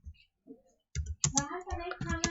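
Code is typed on a computer keyboard, with a few soft clicks followed by denser tapping while someone talks over it at close range.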